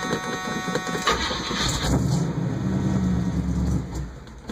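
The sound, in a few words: old Chevy stepside truck engine being started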